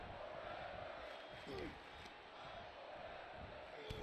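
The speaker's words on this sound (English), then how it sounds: "I think the crowd are behind Fernandez right now." A wrestling crowd at a live indoor show cheers and murmurs in a steady, distant roar, faint under the venue's echo, with occasional shouts and thuds rising briefly from the mass.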